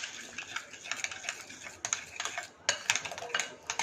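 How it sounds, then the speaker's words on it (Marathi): Spoon stirring raita with salt, chili powder and sugar in a bowl: quick, irregular clicking and scraping taps in bursts, close and fairly faint. "आपण आता हे व्यवस्थित मिक्स करूया"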